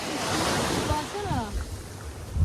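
Sea waves wash and hiss continuously in a broad rush, with wind across the microphone and a voice talking briefly over it.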